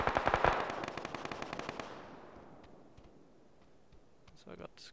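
Gunfire from a team fight in the battle-royale game PUBG: a rapid burst of automatic shots that fades into distant echoing reports, with a few faint later shots.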